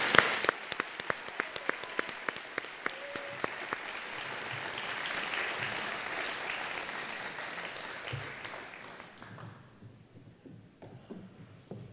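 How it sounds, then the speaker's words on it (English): A graduation ceremony audience gives a sustained round of applause for the graduates' parents, dense clapping that fills the hall for about eight seconds before thinning to a few scattered claps. "can the graduates please join us in a huge round of applause to say thank you to our parents"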